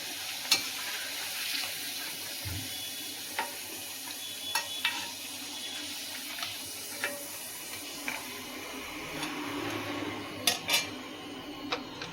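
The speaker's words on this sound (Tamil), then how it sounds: "எல்லாமே இதே மாதிரி பொரித்து எடுத்துக்கலாம்" Pieces of elephant foot yam (karunai kilangu) fry in hot oil with a steady close sizzle, while a utensil stirs and clinks against the pan in scattered light taps.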